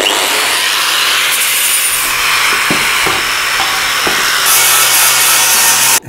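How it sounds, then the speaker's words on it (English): Steady broadband scraping as the edges of a freshly drilled metal reinforcement panel for a rusty cab's door pillar are smoothed by hand, continuous and close, with a few brief knocks partway through and no talk. "I'm just going to take the edges off now."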